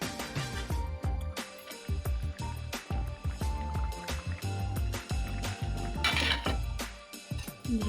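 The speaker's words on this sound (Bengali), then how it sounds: "ঢেকে দিলাম, আবার আমি খুলে দেখলাম।" A lid is set on and lifted off a cooking pot of kohlrabi and catla fish curry, giving several close metallic clanks and scrapes with no talk.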